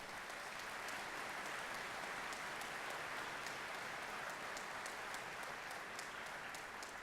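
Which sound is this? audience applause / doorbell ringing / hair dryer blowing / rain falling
audience applause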